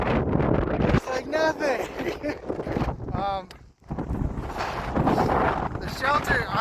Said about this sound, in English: those 50-mile-an-hour wind gusts are no joke